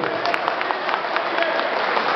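Continuous applause from a seated audience at an Urdu-Hindi poetry recital in Riyadh, a dense steady patter of many hands clapping at even loudness throughout, with no voices over it.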